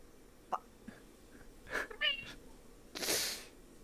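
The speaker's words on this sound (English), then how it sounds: "Sorry for the cat." A cat makes a few short, faint vocal sounds, brief chirps and a sneeze-like burst, scattered over a few seconds in a quiet room.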